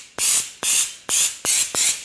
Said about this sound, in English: There's air coming out of there.